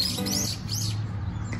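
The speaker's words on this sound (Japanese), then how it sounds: "鳥うるさ。" Birds chirping outdoors, a steady stream of bright, high tweets and calls running loudly through the whole moment with a low hum underneath.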